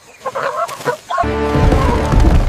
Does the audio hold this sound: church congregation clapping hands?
no